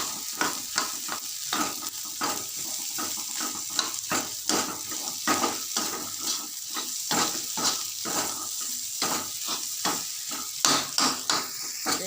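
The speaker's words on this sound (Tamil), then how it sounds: "மிளகாத்தூள் போட்டிருக்கேன், மிளகாத்தூள் வாசனை போக வதக்கிக்கணும்" A potato stuffing with chili powder is sautéed in a pan, a steady oily sizzle under rhythmic stirring strokes: quick, regular scrapes and light spatula knocks repeating throughout at moderate volume.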